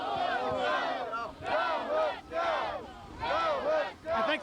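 A baseball crowd chants in unison for the Hooks, repeated rhythmic group shouts rising and falling in about four loud waves, close and energetic.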